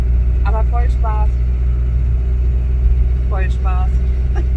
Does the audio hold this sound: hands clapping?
no